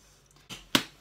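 Bread dough for homemade rolls is slapped and kneaded by hand, giving three short, sharp smacks in about a second, each louder than the last, close up and alone.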